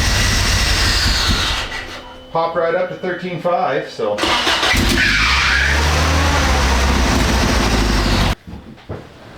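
An Isuzu Amigo engine with a suspected timing issue cranks, catches and runs loud and rough, then cuts off near the end, with someone talking over it.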